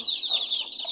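A Black Australorp hen clucks close by in a rapid, continuous run of soft throaty notes over about a second, with no other sound.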